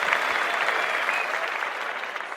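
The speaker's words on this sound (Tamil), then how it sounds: "அந்த கல்வியை இவங்களுக்கு ஏற்படுத்தி கொடுத்த ஆனந்தம் ஃபவுண்டேஷனுக்கு ஒரு மிகப்பெரிய கைத்தட்டல் கொடுத்துடலாம்." An audience at an awards event claps for the Anandham Foundation, a dense, even wash of many hands applauding steadily and fairly loud throughout, with no speech over it.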